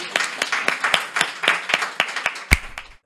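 An audience at a talk-show style therapy session claps again: a short, loose burst of hand claps with distinct individual slaps and a loud final clap before it fades, with no voices.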